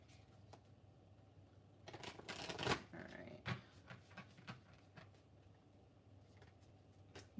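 Wild Unknown Archetype tarot cards being shuffled by hand, a short burst of riffling and a few card taps, faint and close.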